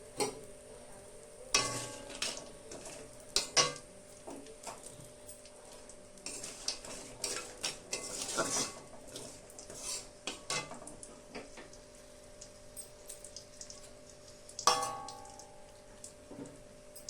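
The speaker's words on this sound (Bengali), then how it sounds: "সেই তেলেই আমি বড়িটা ভেজে নিচ্ছি" Lentil bori frying in oil in a wok, with repeated metallic clangs and scrapes of a utensil against the pan over a faint sizzle, spread through the stretch with a few louder knocks.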